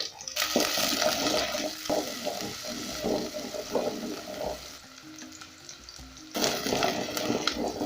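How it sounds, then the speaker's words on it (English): Chopped onions go into hot cooking oil and fry with a loud, steady sizzle, stirred now and then so the crackle swells and eases, then flares up again toward the end; no one speaks. "once my oil is hot enough, I'll go in with my chopped onions"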